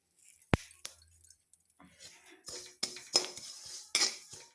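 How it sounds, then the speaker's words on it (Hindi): Black sesame seeds are roasted in a pan, heard as quiet scraping, light clinks and short rattling stirs of a utensil against the metal, with one sharp knock near the start. "तो यहाँ पर मैं काला तिल भून लेती हूँ।"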